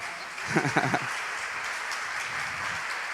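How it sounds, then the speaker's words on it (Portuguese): Applause from a church congregation at a Sunday morning camp service, a steady broadband patter of clapping filling the room for a few seconds, with a few louder voiced bursts near the start. "Uma salva de palmas"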